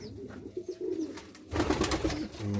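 Pigeons in a loft with chicks and nesting birds coo in low, throaty, repeated calls close by, steady at first and then swelling into a fuller, louder chorus with some rustling.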